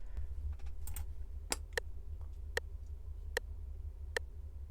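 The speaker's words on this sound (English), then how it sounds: "This is how fast you need to click." Quick mouse clicks for Minecraft PvP sound close and crisp, a sparse run of single sharp ticks spaced roughly half a second apart over a low steady hum.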